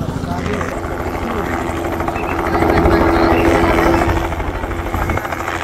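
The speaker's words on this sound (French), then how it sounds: "il y a un hélico qui tourne autour du Corcovado, qui tourne autour du Christ" A helicopter circling over the Corcovado in Rio de Janeiro, its rotor thumping steadily, swelling louder for a few seconds as it passes nearer, then easing back to a constant drone.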